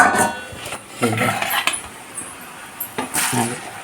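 Rice flour jantikalu dough laid onto a plate in a home kitchen, making a few light metallic clinks and scrapes of utensil against plate at irregular intervals, close and moderately loud.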